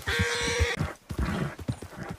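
A horse in Red Dead Redemption 2, a Silver Dapple Pinto Missouri Fox Trotter, gives a loud whinny followed by a few nearby hoof clops and snorts, heard alone.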